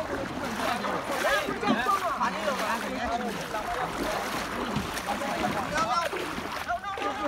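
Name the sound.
boat moving through floodwater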